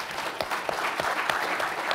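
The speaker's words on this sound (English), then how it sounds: "So I would like to ask you for an applause for our panel" Audience at an infrastructure panel event applauds the panelists, dense, even clapping with sharp individual claps standing out, sustained throughout.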